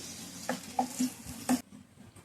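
Onions, green chilies, dried red chilies and curry leaves fry in a pan for a raw banana stir-fry, with a few close utensil scrapes over a sizzle that suddenly drops away near the end.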